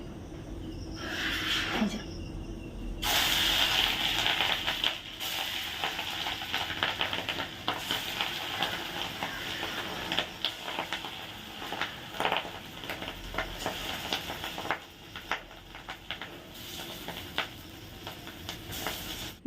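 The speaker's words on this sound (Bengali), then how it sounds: "বড়া ভাজা একদিকে রেডি মানে একবার হয়েছে এবার এ কটা দেবো আর পুরো তেলটা পুরো ফুলে যাচ্ছে" Bora fritters deep-frying in bubbling oil, a continuous close crackling sizzle with occasional louder pops and clinks of a spoon.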